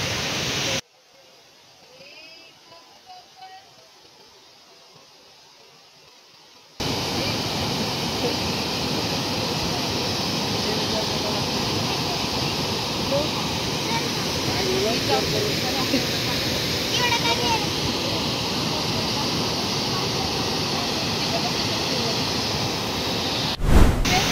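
A waterfall in Udgir roars as a steady, loud, close rush of falling water that fills most of the clip after a short, quieter opening.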